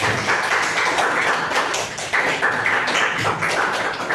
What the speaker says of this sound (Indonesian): Oke, beri aplaus untuk kalian.